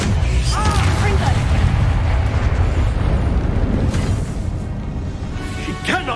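A Confringo fire spell blasts in the Hogwarts Legacy video game, a loud, dense burst of crackling, roaring energy with game voices calling over it and a sharp flourish near the end.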